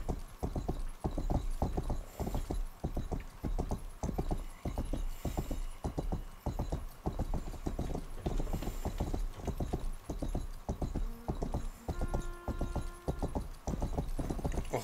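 Horse hooves clip-clop steadily in the medieval game GTA Medieval, a close, rhythmic stream of sharp knocks continuing throughout with no talk.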